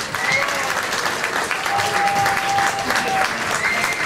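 Audience applause fills a Blue Note club in Poznań after a rock'n'roll guitar performance, loud, steady and close for the whole stretch.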